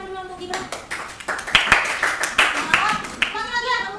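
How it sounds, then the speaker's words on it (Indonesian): Children in an Indonesian-language classroom clap their hands in short bursts of claps, loud and close, while a teacher's voice talks over them. "Tepuk tangan dulu untuk Gibran."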